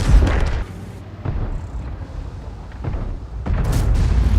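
A boom from an incoming munition striking in a combat zone, a heavy low rumble at the start that fades into a rolling, echoing tail, with further muffled low thuds and a renewed rumble toward the end.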